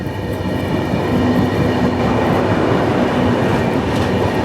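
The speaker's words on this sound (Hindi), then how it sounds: "यहाँ पे हमारी ट्रेन की क्रॉसिंग हो रही है कन्याकुमारी डिब्रूगढ़ विवेक एक्सप्रेस के साथ" A passing Kanyakumari–Dibrugarh Vivek Express crossing at Abhayapuri railway station, heard from aboard another train, gives a loud, steady rumble with rolling wheel clatter and a faint high whine throughout.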